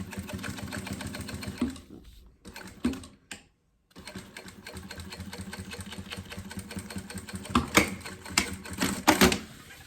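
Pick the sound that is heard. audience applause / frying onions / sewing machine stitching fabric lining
sewing machine stitching fabric lining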